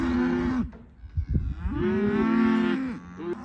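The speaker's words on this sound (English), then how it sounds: "Cows are all charging up the hill to collect their calves." Cattle moo loudly as cows charge up a hill to reunite with their calves, producing long drawn-out bellows, one after another. A closer low moo is followed by a sustained louder call and a short final one.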